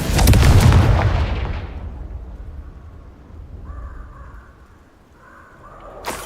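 A heavy spell blast from Bombarda or Confringo in Hogwarts Legacy booms loudly and rumbles away over two seconds, followed by a quiet stretch and faint game tones.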